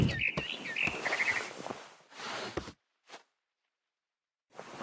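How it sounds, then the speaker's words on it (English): A barn swallow in the video game What Remains of Edith Finch gives a few bright chirping trills early on, mixed with clicks, rustles and soft steps, then near silence broken by brief noises. "Then I heard chirping outside my window. It was a barn swallow going back to her nest."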